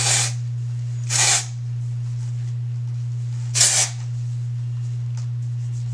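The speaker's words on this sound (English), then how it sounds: "And I just spray up in the root." Three short, close hissing bursts of aerosol hair texture spray aimed at the roots, spaced unevenly over a few seconds, with a steady low electrical hum underneath.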